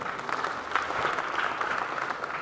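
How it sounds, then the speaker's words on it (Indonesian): Steady applause from an audience at an opening ceremony for FASI XII in Ciamis regency, a dense continuous patter of clapping at moderate distance with no voices over it. "Tepuk tangan untuk Ciamis."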